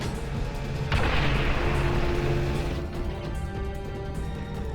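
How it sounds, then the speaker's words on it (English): In the Quake 4 shooter game, a grenade launcher fires and its round bursts into a heavy rumbling boom that rolls out and decays over several seconds against steady background game noise. "Maybe I will use a grenade launcher."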